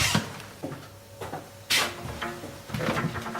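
A toilet lid shuts in an old castle with a few sharp knocks and clatters, nearby and fairly loud, with quiet room noise in between.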